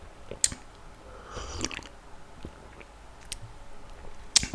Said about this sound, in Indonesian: kita seruput dulu kopinya seperti biasa